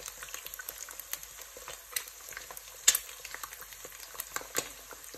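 Bacon and eggs fry in a pan for breakfast, giving a steady close sizzle dotted with sharp pops and crackles of spitting fat.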